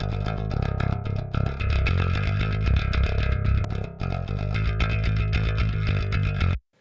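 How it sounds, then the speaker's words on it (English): Bass guitar played through a Waves CLA Bass plugin used as a boost pedal, with slight distortion, compression and bass push, for cold, evil metal tones; a dense, continuous driven riff, loud and alone, stopping abruptly at the end. "Slight distortion, slight compression, slight bass push."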